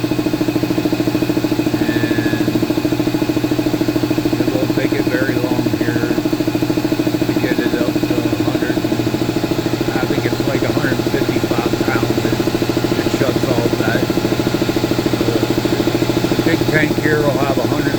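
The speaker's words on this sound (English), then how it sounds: "This is a really good compressor" An old air compressor runs steadily with a continuous mechanical hum and vibration throughout, fairly loud and close, with faint higher clicks and rattles over the drone.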